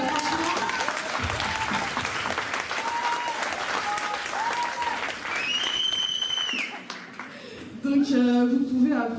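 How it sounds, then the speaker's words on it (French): An audience gives sustained applause for a volunteer team at a talk event, a moderate wash of clapping with voices and tonal sounds over it, swelling louder again at the end. "vous pouvez applaudir, franchement, l'équipe de bénévoles"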